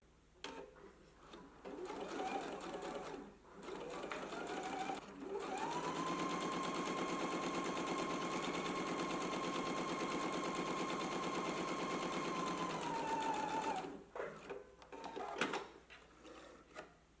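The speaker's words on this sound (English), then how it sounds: "we can do some stay stitching here along the side." A sewing machine runs steadily for several seconds, stay stitching along the side of a fabric garment, with a sustained whirring hum and fast needle clatter, framed by brief quieter handling noises before and after.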